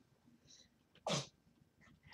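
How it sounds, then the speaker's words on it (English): A cat's small, sharp sneeze bursts out once in a quiet room, brief and fairly close, with a few faint rustles around it. "That was my cat who just sneezed."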